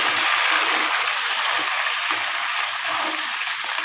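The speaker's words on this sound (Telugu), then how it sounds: "ఇప్పుడేమో నూనెలో అయితే వేద్దాం ఫ్రెండ్స్. చూడండి, నూనెలో అయితే వేసేస్తాను." Chicken pieces frying in hot oil for chicken pickle, a loud, dense, continuous sizzle and crackle heard up close with no pauses and no talking.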